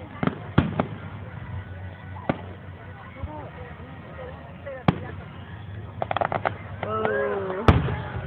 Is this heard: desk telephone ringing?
no